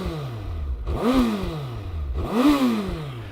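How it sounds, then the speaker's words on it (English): A 2025 Suzuki GSX-1300R Hayabusa on its stock twin exhaust is revved twice at close range, each blip rising sharply then falling back to a steady idle. "Stock exhaust, you guys."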